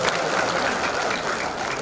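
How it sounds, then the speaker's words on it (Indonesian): Dense applause from a seated audience of civil servants at a professional gathering, a steady, fairly loud wash of many hands clapping that holds evenly throughout. "saya minta tepuk tangannya."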